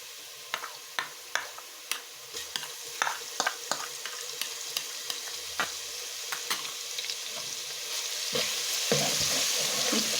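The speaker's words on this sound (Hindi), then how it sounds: "प्याज को हम गोल्डन कलर आने तक पकाएंगे।" Onions and ground garlic fry in a pan for pea pulao, a soft steady sizzle punctuated by frequent sharp crackles and pops, moderately quiet and close with no talking.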